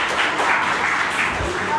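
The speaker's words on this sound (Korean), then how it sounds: "우리 박수." A church congregation claps together to welcome a young elementary-school boy forward during a worship service, a steady broadband patter of many hands filling the room with a faint voice underneath.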